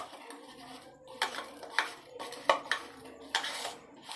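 Paneer pieces being rubbed by hand with chili powder and spices in a bowl, giving soft irregular clinks and scraping taps of metal utensils at close range, with no talking.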